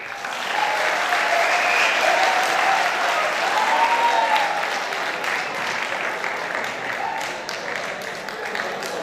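Audience applause at a book launch ceremony held in a college hall: sustained, dense clapping from a large crowd, steady and fairly loud throughout.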